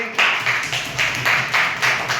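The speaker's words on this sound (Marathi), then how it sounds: "तर खरोखर एकदा जोरदार टाळ्या वाजा सर्वांनी" Schoolchildren and an audience at a Zilla Parishad school in Jaitapur break into loud, dense applause, the clapping swelling in rhythmic waves for a couple of seconds with no talking.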